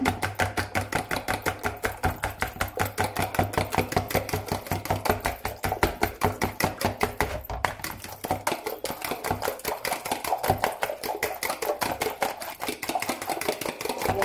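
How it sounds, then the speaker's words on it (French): Eggs beaten with a whisk or fork in a bowl, a fast steady rhythm of close, sharp clicking taps that runs on without pause and slows slightly toward the end, with a low hum underneath. "C'est Mémé qui bat les œufs"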